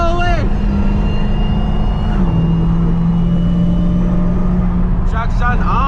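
A 730hp Dodge Charger SRT Hellcat engine drones loudly and steadily while driven hard in the rain, its pitch shifting slightly, with voices speaking over it at the start and end.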